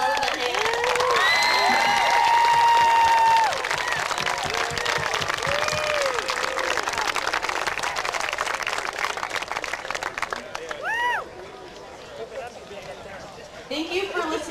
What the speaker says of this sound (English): give these inspirations one heartfelt applause of the hand